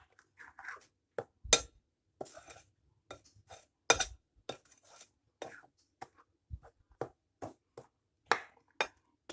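A utensil stirring Royco bouillon powder into a mixture clinks and taps against the pot in a string of sharp, irregular knocks separated by short quiet gaps.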